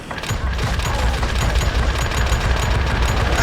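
Dense, continuous gunfire from a shooter video game with dual-wielded shotguns and bullet time, loud rapid bursts running without pause throughout.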